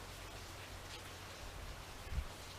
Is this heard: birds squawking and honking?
no